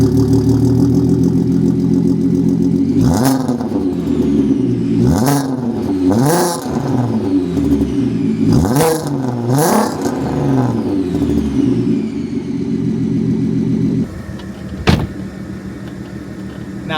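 A supercharged VW Golf Mk5 R32 with its 3.2 V6 revs hard in a run of four or five sharp throttle blips that rise and fall over a steady idle, then one short final blip after a brief dip.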